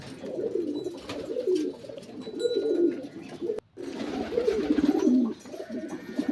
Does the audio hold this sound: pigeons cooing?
yes